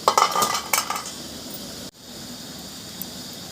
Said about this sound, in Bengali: 5 মিনিট পর ঢাকাটা খুলে নেব।